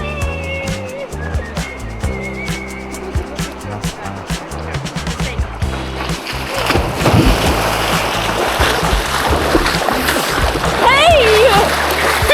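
People jump into the Colorado River at the bottom of the Grand Canyon, with splashing and churning water growing loud and continuous in the second half, mixed with voices and shouting.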